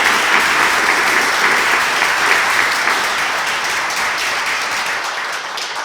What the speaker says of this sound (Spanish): quisiera pedirles un aplauso para él y su grupo